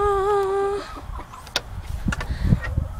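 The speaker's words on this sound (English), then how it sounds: "This is our chicken coop." Chickens in a backyard chicken coop cluck and call near the listener, a drawn-out vocal note opening before scattered clucks and soft scratching noises follow.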